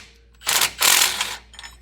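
A ratchet loosens the nuts or bolts holding a vehicle bumper during an aftermarket bumper install. Two short bursts of rapid, close metallic clicking come one right after the other.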